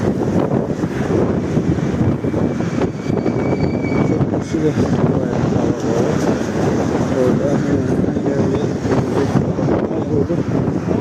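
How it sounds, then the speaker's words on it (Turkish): Strong stormy morning wind roars and buffets the microphone in a constant low rumble while fishing in Istanbul, Turkey, with a person talking over it throughout. "Hava bayağı rüzgarlı, fırtına, sabah."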